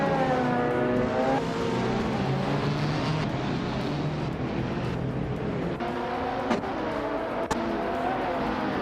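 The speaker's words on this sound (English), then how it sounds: "driving a sleek 2011 KTM Crossbow R" A 2011 KTM Crossbow R races in a video game, its engine roaring steadily and loud throughout, with rising and falling revving tones and a couple of sharp clicks near the end.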